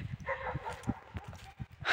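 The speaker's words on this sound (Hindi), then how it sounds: "अरे खूब भौंक रहा है मेरे लिए" Dog barking close by in a quick run of sharp barks and yips, with a brief whimper mixed in.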